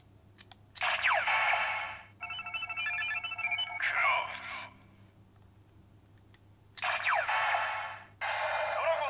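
A Kamen Rider DX Cross-Z Ridewatch toy plays electronic sound effects: bright tonal bursts that alternate with pauses and a second beeping pattern, then the first burst repeats, all fairly clear.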